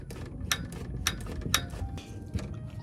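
Several sharp mechanical clicks from a torque wrench at irregular intervals, close by, during an oil change on a Toyota Camry/RAV4 2AR-FE engine, over a low background rumble with no talking.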